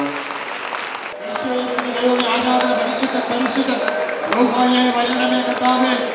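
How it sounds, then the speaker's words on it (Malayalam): Church service audience claps steadily in thanks, a full room of applause building and holding, with a voice speaking and musical tones sounding over it. "കൈയടിച്ചൊന്ന് നന്ദി പറയാം."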